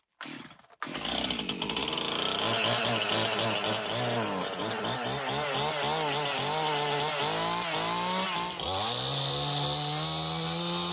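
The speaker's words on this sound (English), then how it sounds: "First we're going to start with the Stihl MS211 to take some limbs off these logs" A Stihl MS211 chainsaw starts with a brief rev, then runs hard for about ten seconds cutting limbs off logs outdoors, its engine pitch rising and falling steadily as it bites into the wood, loud and close.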